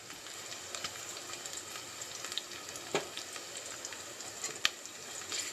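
Onions browning in a pan for a tindora and tomato curry give a constant soft sizzle and crackle, with occasional sharp clicks of a spoon, no voices.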